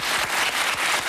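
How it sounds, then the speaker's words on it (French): Studio audience on a French-language TV show applauding a guest, dense continuous clapping that swells and surges in waves throughout. "Claude ou Marc Van Drebroek, que je vous demande d'applaudir, qui est notre invité également ce soir."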